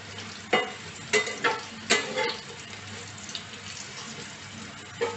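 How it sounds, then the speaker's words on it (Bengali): Teasel gourd slices fry in deep oil over medium heat under a soft steady sizzle, broken by several sharp, fairly loud clatters and scrapes of stirring spaced through the clip. "চুলার আঁচটা মিডিয়াম রেখে এগুলো ভেজে নিন।"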